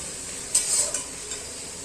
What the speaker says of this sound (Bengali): ভালো করে নাড়িয়ে নেব, আর যাতে আদা রসুনটা ভালো করে সেদ্ধ হয়ে যায়